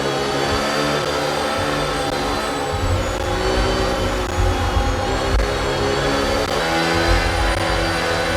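An F1 car in a racing video game, its engine droning loud and steady with slight rises in revs, and no voices.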